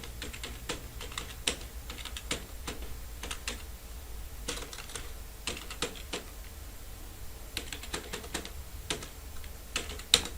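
Rapid, uneven keystrokes on a computer keyboard as grade values are entered into a school records program, with close, crisp clicks in short bursts and small gaps between them.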